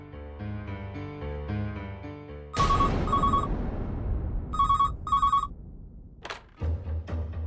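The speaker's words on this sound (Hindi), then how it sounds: "जी बेल जा रही है।" Music plays, then a telephone rings out on an outgoing call in repeated electronic double bursts, with a short chime and music returning at the end.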